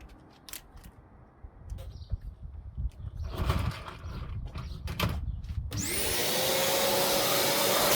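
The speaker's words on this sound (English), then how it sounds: "going under the window and with the vacuum, just making sure it followed and every little last piece of that old seal came out" A vacuum cleaner clears crumbling debris from the 21-year-old window seal of a BMW E60. Scattered clicks and rustles come first, then the motor starts and whines loud and steady to the end.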